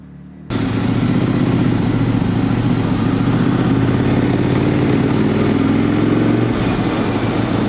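A motorcycle engine on a dyno roars into a loud, sustained power pull after a brief quiet start, holding a steady droning tone close by before the note dips near the end, with no speech.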